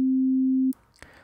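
A steady pure sine tone, clipped and flattened at the top, holds loud and unbroken for about three-quarters of a second, then cuts off abruptly, leaving faint low noise and a brief click.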